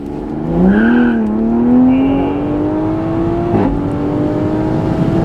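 A stock-turbo Toyota Supra with methanol injection accelerates hard from inside the car, its engine note rising steadily through the revs in one long loud pull, with a brief shift partway through.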